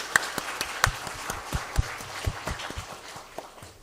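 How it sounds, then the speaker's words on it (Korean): A church congregation claps during a Children's Sunday worship service: scattered, uneven hand claps ring through the hall for a few seconds before trailing off. "우리 축복의 박수"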